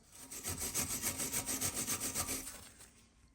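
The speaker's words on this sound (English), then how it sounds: "I'm going to wire brush off the threads." A wire brush scrubs rust from the bolt threads of a Hyundai i10 rear shock absorber, with a quick, even run of rasping back-and-forth strokes, close and fairly loud, easing off at the end.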